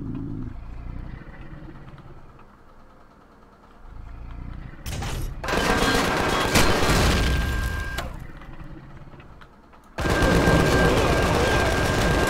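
Sustained rapid gunfire from a minigun in the space survival game Empyrion Galactic Survival, loud dense bursts starting around five seconds in and again near the end, separated by a quieter stretch of ambient rumble.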